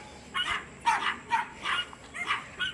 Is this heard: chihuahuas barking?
yes